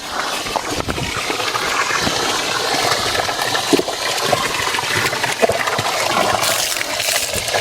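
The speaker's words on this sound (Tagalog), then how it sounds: "Wow, lakas yung tubig." Water gushes forcefully and steadily, a loud continuous rushing with occasional splashes and clunks.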